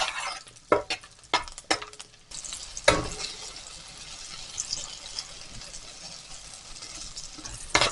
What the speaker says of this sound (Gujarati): તમે જોઈ શકો છો કે આપણું લસણ સરસ શેકાઈ રહ્યું છે